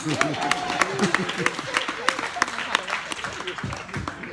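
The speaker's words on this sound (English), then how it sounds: "Big round of applause!" A crowd claps and cheers in a lively burst of applause, with voices calling out over the clapping.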